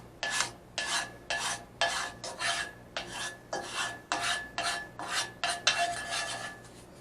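A wooden spatula spreads potato puffs across a pan in about a dozen rhythmic rasping scrapes, each short, close and fairly soft, with no talking.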